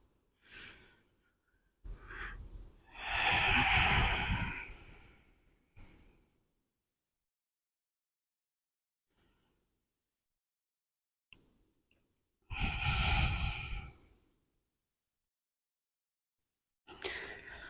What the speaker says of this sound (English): Taking deep breaths. Maybe trying to extend the exhale.